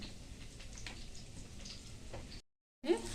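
Green chillies and curry leaves sizzle softly in hot oil in a home kitchen, a quiet steady crackle with scattered pops that cuts out briefly near the end.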